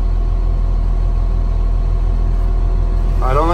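A vehicle engine idles low and steady while reversing in first gear, a constant mid-low rumble under a faint background hum, with a brief rising whine near the end.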